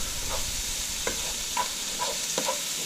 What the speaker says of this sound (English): With mushrooms and onions are sauteing in there.